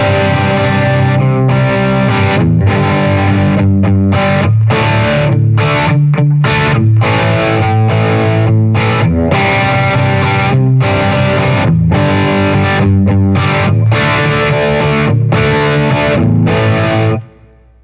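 Electric guitar runs through a Bogner Ecstasy mini overdrive/distortion pedal with the mid control at neutral, playing loud, thick distorted chords and riffs with rhythmic stops for about seventeen seconds before cutting off.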